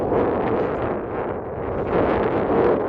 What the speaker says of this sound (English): Definitely very windy.